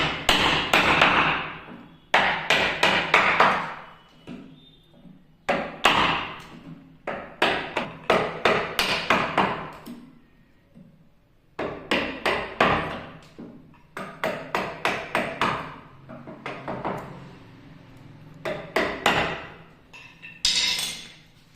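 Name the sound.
hammer and chisel squaring a wardrobe hinge recess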